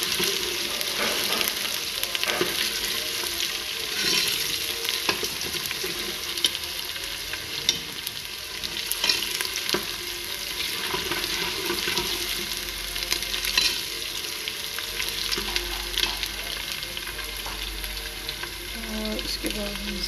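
Mash dal frying in a pan, a continuous close sizzle with light bubbling and occasional stirring scrapes, steady and even for the whole stretch.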